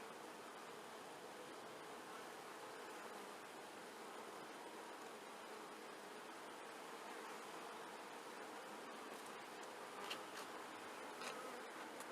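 Honey bees buzzing in a dense, steady hum at an opened hive during an inspection, the drone continuous and close with a few brief sharper sounds near the end.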